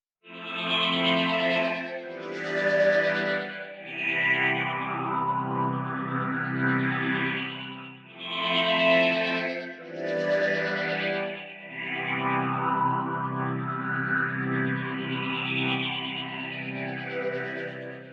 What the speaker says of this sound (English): let's add one more reverb to finish things off